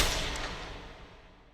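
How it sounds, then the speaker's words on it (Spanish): A single sharp starting pistol shot cracks out at the start of a mile race on a windy day, a loud burst that fades away with a short echoing tail. "Disparo de salida."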